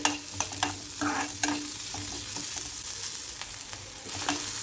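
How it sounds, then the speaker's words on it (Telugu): Chopped onions fry lightly in a spoonful of oil for a bitter gourd curry, giving a gentle steady sizzle with a few spoon knocks and stirring scrapes, close and free of speech. "ఒక స్పూన్ ఆయిల్ వేసి కొంచెం లైట్గా ఫ్రై చేస్తే సరిపోతుందండి"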